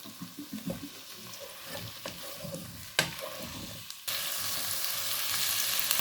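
Potatoes and carrots hit browned onions for biryani, with scraping stir strokes and clinks over a soft sizzle that jumps into a loud, steady frying hiss partway through.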